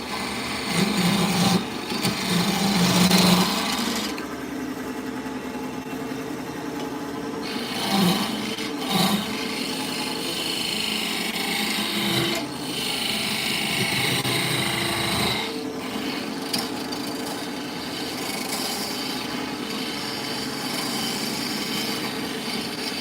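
Sanding a handmade wooden mushroom, with an uneven rasping, rubbing drone that comes in bursts and changes pressure, near and fairly loud, with no talk over it.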